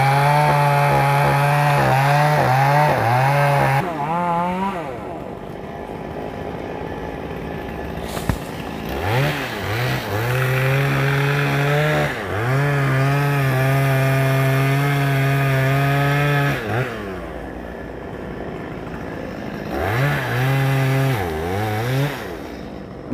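A chainsaw cuts into melaleuca trees in Binh Duong, loud and close, its engine note rising and falling through several bogged-down cuts with short idle gaps between them.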